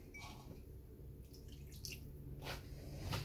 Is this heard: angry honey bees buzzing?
no